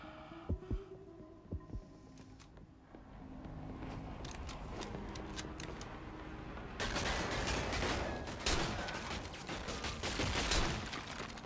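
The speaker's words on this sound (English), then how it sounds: "Who's shooting at me?" Gunfire in the action game Devil's Third: a few sharp isolated shots at first, then a low hum, and later dense bursts of rapid, loud shooting crowding the second half.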